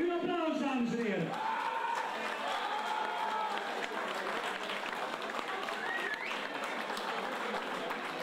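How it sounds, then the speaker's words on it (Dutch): Audience applause at a cycling race prize ceremony in Steenhuize, honouring the winner of the Grand Prix Sofie De Vuyst; steady dense clapping from a crowd, starting under a loud announcer's voice and some cheering, then continuing alone at an even level. "En uw applaus, dames en heren."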